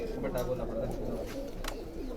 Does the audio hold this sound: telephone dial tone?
no